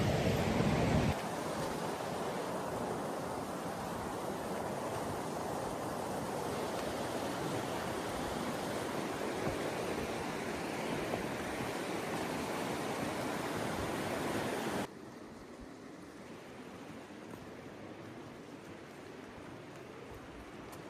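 Water rushes continuously at the Umpqua waterfall, a broad, loud roar of falling and churning water heard close up, dropping abruptly to a softer, steadier flow near the end; no one speaks.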